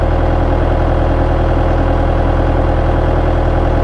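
A Bobcat T300 skid steer engine idles close by after being revved, a loud, steady low-pitched drone with an even throb and no talking.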